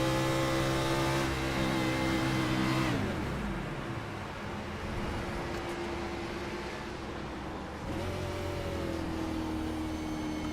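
A race car engine failing in the eNASCAR sim racing game at Texas Motor Speedway, with a loud whining engine note that drops away sharply partway through, then a lower steady tone returns and rises again.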